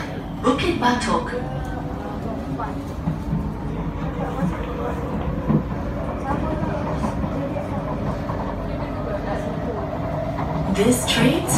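A metro train running between Bukit Batok and Jurong East stations in Singapore, a steady low rumble and rolling hum throughout with faint clatter, while recorded announcements play over it.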